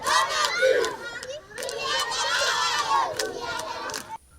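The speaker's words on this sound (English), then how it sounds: "These are running around the school as friends and classmates cheer them up." Schoolchildren cheer and shout loudly for classmates running around their school, a lively crowd of young voices rising and falling with sharp whoops.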